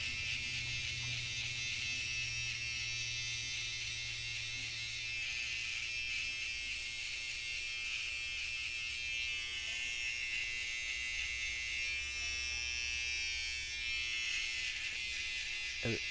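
An electric hair trimmer buzzes continuously during a home skin-fade haircut on a young child's fine hair, a close, steady high-pitched hum with slight shifts as the blade moves, and no talking.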